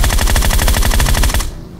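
Rapid automatic gunfire in a classic-mode shooter video game, a loud sustained burst of evenly spaced shots that cuts off abruptly near the end, leaving quiet room tone.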